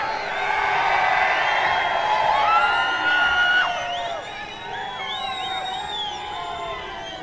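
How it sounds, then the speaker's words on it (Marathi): A political rally crowd in Maharashtra cheers and whoops loudly and steadily, with many overlapping shouts and whistles, swelling early and then easing slightly while staying dense throughout. "जरा जल्लोष करून सांगा"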